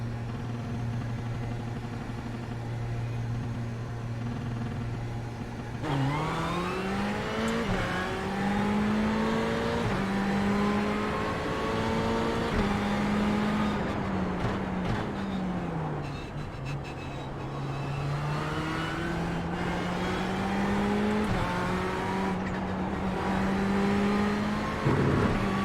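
A race car in the iRacing simulator drives steadily, its engine droning loud and continuous, pitch climbing and dropping through gear changes and revs across the run, with no talk over it.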